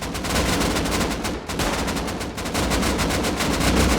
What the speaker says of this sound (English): Plenty of AK fire going on there